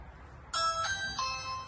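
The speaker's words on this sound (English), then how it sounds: "let's ring the doorbell." A doorbell chimes three bright electronic tones in a descending sequence, clear and close, with a faint room hum beneath and no talking.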